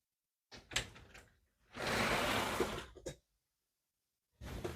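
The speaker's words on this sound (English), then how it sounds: "Let me just quickly close the door." A door being closed indoors, with a rustle and a scraping slide, a sharp knock as it shuts, then silence before more movement.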